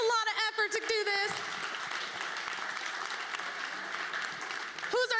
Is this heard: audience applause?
yes